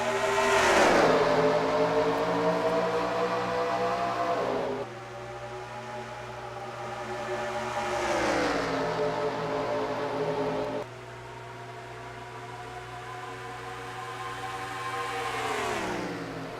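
Race cars at Pikes Peak roar past in repeated waves of rising then falling engine pitch, each pass loud and close, over a constant low hum.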